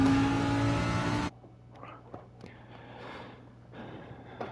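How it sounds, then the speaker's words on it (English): Race car engine in Gran Turismo 7 revving loud and steady for about a second during a slide, then cutting off abruptly, leaving a faint low idle hum with scattered small clicks and light noises. "I got the car to slide there and then tried to use the throttle to turn it."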